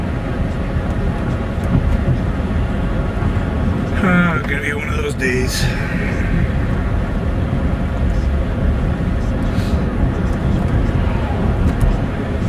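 A helicopter passes overhead just to the north, a loud continuous low rumble and whirring drone that persists throughout while someone speaks briefly.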